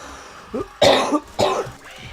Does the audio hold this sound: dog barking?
no